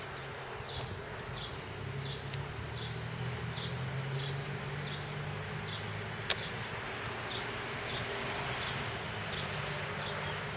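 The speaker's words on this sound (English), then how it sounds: "My bees are swarming" Many bees buzz around, a constant droning hum with individual insects zipping past close by, plus a faint chirp in the background.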